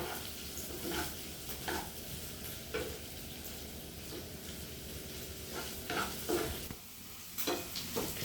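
Ginger and green chillies sauté in a pan with a steady low sizzle, broken by repeated scraping stirs and light clinks of a utensil against the pan.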